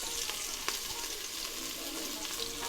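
Onions and garlic frying in olive oil in a pan, a steady dense sizzle and crackle with occasional sharper pops, close and alone with no talking.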